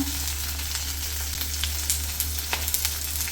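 Garlic and ginger fry in hot oil in a pan for a vegetable pulao, giving a close continuous sizzle over a low steady hum, with light spoon scrapes and crackles scattered throughout and no voices.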